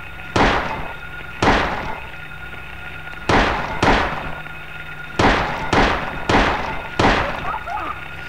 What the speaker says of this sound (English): I'm going to equip the gun real quick and shoot these things